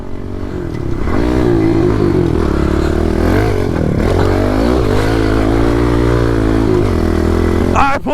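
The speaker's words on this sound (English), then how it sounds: "Alright boys, we're out on pit bikes." A pit bike engine revs loud and close, a rough, buzzy small-engine drone rising and falling in pitch several times over about eight seconds, with no talk.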